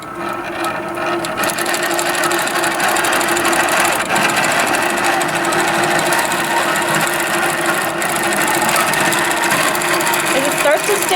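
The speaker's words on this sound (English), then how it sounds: "As it starts to stitch, I'm watching just to make sure that my stitch quality looks great" Innova AutoPilot longarm quilting machine stitching edge to edge: a steady, loud mechanical hum with rapid even needle clatter running continuously throughout, no break in rhythm.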